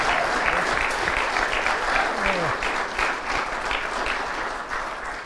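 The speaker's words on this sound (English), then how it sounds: "So can I get a big round of applause for Conor McDonald?" A crowd at an adult four-wall handball nationals event gives a big round of applause for Conor McDonald, dense continuous clapping that gradually softens, with faint voices mixed in.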